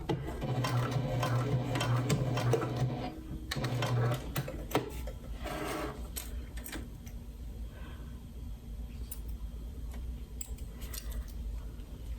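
A sewing machine stitches fabric pouches in short bursts of fast, even mechanical chatter, with quieter handling and clicks between runs, heard up close.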